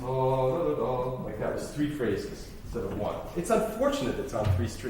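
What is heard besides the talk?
No everyday noise stands out behind the speech.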